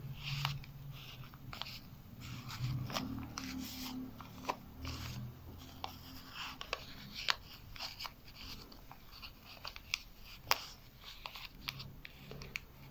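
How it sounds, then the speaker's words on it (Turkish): A sheet of paper being folded by hand during a love ritual, with soft close rubbing, creasing and crinkling plus scattered light crisp clicks, all quiet and with no voices. "Siz bunları aktarırken ben kağıdımı katlıyorum."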